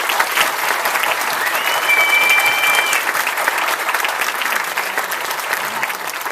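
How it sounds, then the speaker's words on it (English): A graduation audience applauds three student speakers at a university ceremony, with continuous loud clapping from a hall crowd and a brief whistle-like tone riding over it. "Let's give our 3 phenomenal student speakers one more round of applause."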